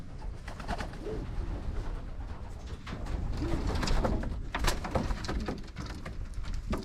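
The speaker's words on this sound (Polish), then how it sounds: "Idziemy zobaczyć, jakie masz gołębniki." Racing pigeons in a large loft coo repeatedly, several soft, low, rolling calls close by over a busy background of wing flutters and shuffling, with no one speaking.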